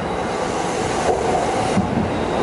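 A train rumbling into a station in Yokohama at midnight, steady rolling noise with faint wheel squeal, loud and close.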